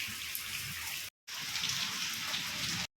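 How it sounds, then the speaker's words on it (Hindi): Heavy monsoon rain pours down in a dense, steady hiss of drops hitting surfaces, broken once by a brief silent gap, with no voices. "तो अभी बारिश शुरू हो गई है काफ़ी देर से, देखते हैं कब रुकती है।"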